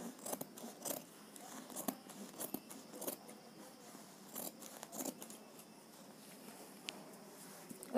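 Scissors cutting fabric for a long frock, a series of quiet, close crisp snips at an irregular pace against a hushed room.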